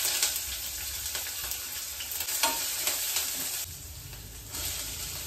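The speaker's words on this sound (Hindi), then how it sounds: "लहसुन अदरक मिर्च डाल देते हैं," Garlic, ginger and chili hitting hot oil with cumin in a pan while cooking aloo gobi at home, a close, steady hiss and crackle of sizzling with a few stirring scrapes, no voices.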